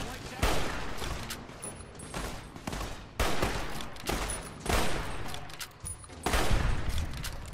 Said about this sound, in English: I guess this is my best shot, honestly, is the hunting rifle.